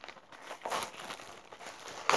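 Aluminium foil crinkles while a cargo package is opened, with a few soft rustling bursts and a sharper, louder crackle near the end, all close to the microphone.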